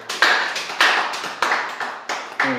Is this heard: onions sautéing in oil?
no